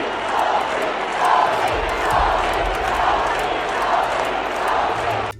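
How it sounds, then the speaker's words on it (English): Indiana Fever fans chanting in a basketball arena, a steady rhythmic roar of many voices repeating a name, broad and continuous throughout without a break. "The Indiana Fever fans were chanting,"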